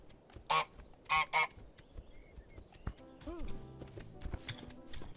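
Three loud honks of the goose in Untitled Goose Game in quick succession, followed by softer clattering and in-game sounds.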